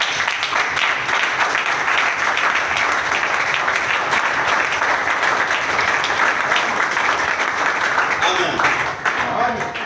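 Congregation clapping in a French-speaking church service, dense sustained applause filling the room at even strength for about ten seconds before easing slightly at the end.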